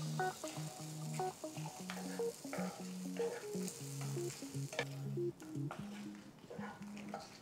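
Onions, ginger, garlic and freshly grated coconut roast in a pan for a South Indian clay pot mutton curry, giving a soft, steady sizzle broken by repeated stirring scrapes and light utensil taps. It is fairly quiet, with no voices.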